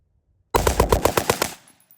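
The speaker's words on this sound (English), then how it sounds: "Pretty good bump fire." A rifle, an 11.5-inch LMT, is bump fired in a rapid burst of about ten loud, close gunshots over one second, preceded by silence and followed by a brief fading echo.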